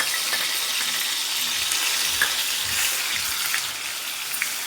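Ginger-garlic paste fries in a hot tempering of mustard and cumin seeds, giving a steady, crackling sizzle with scattered small pops, heard alone at moderate volume.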